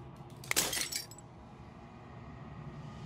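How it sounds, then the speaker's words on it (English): Glass shatters in the video game Slay the Princess, a single bright crash with a clinking, splintering burst that rings out for about half a second and then leaves a quiet, faintly humming room. "As a final fragment of glass shatters"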